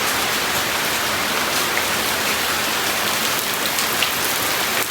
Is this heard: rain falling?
yes